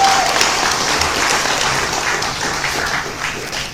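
Audience applause at a Partai Nasdem press event welcoming Anies Baswedan, a dense, steady wash of many hands clapping close by, sustained for several seconds and tapering slightly toward the end.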